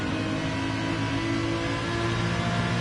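A race car in a racing video game holds a steady engine drone at high revs, loud and continuous, with no pauses or talk.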